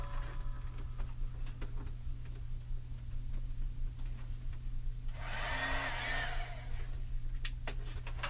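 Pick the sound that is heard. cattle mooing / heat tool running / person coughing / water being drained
heat tool running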